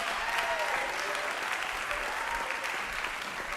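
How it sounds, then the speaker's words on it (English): A church congregation claps steadily in praise, a dense continuous wash of many hands applauding throughout, loud and sustained with faint crowd murmur underneath. "somebody give them a hand clap of praise right now."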